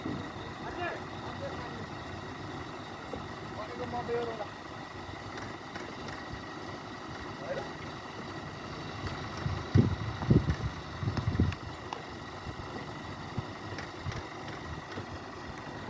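Tipper truck engine idling with other vehicles following behind, a low steady rumble throughout, with muffled voices and occasional louder knocks and bursts near the end.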